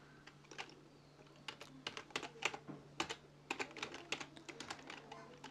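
Someone types Pygame code on a computer keyboard, with quick, uneven bursts of key clicks close to the mic at low volume over a faint steady hum. Nobody speaks.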